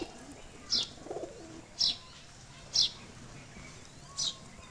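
Pigeons at a small pigeon farm, several short cooing calls repeating at roughly one-second intervals over a quiet evening outdoor background.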